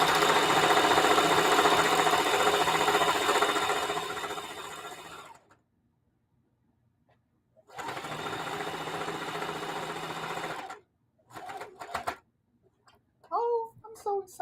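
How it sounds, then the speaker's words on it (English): Sewing machine stitching down the edge of an apron strap, running steadily in two long bursts separated by a pause, followed by short stops and starts with someone talking briefly at the end. "So now I'm sewing down the edge of the strap."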